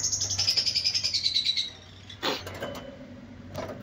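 Iraqi African crested chicks chirp close by in a quick, rhythmic run of high peeps, then pause before a few scattered calls.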